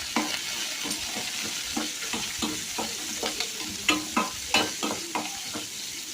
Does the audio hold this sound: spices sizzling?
yes